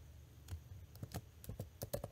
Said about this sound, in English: I'm going to try and type while we do this